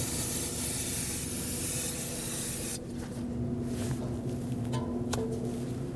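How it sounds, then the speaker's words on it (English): Brake parts cleaner sprays in a steady hissing burst onto a front brake hose on a 2009-2015 Honda Pilot, then cuts off, leaving faint dripping and rustling over a low constant hum. "I'm going to rinse this off with a brake parts cleaner to make sure I detect any potential leaks."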